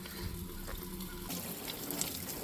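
Cold spring water pours from a public fill-up tap at Linn Run State Park, a steady close rush and splash that shifts slightly in tone partway through.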